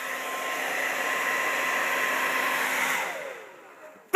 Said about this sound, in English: It's a blow dryer!